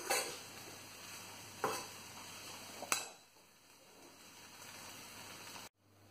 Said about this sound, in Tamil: போட்டுட்டு எல்லாம் சேர்த்து நல்லா mix பண்ணிட்டு ஸ்டவ் ஆஃப் பண்ணிடுங்க.